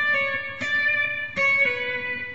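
A short guitar phrase with triplets from Pachelbel's Canon: a few plucked, ringing notes with two clear attacks, close and moderately loud, no talking.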